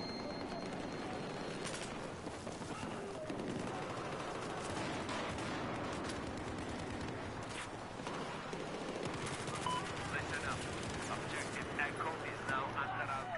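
Gunfire in Battlefield 4, a continuous dense clatter of automatic weapons and distant booms filling the scene, with people talking over the steady barrage throughout.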